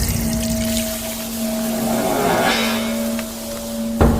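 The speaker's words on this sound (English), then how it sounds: "Emma turned on the shower" Water hisses steadily from a shower spray, constant and close, over a low electrical hum, with a sharp knock near the end.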